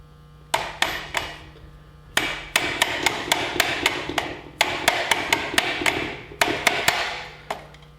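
A hammer taps on brake parts of a Yamaha Grizzly 600 ATV during a brake shoe installation. Sharp metallic strikes come in quick clusters of three to five, close and loud, over a low steady hum.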